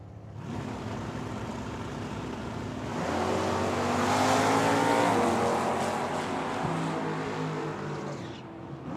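Drag race launch at Tucson Dragway between a 1980 Ford Fairmont and a 1979 Mustang, engines roaring loudly and climbing through gears as the cars pull away, a steady sustained blare that swells midway and then eases.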